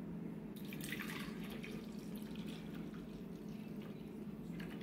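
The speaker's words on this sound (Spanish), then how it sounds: "vamos a echarle un poquito de agua a la licuadora" Water being poured into a kitchen blender to make peach cream: a steady, quiet splashing trickle of liquid running continuously throughout, with no voices.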